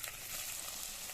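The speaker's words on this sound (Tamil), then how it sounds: "இப்போ நல்லாவே எண்ணெய் ஹீட் ஆகிட்டு நான் ஃபைனாக சாப்பிட வச்சு வெங்காயத்தை ஆட் பண்ணிக்கிறேன்" Chopped onions fry in hot coconut oil for an egg gravy, giving a steady, close, bright crackling sizzle with no talking.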